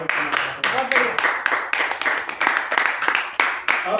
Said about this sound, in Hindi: एक बार जोरदार ताली से इनका स्वागत करना चाहता हूँ